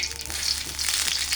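Banana slices fry in hot oil for crisp chips, giving a steady, dense sizzle that crackles continuously and fairly loudly throughout, with no voices.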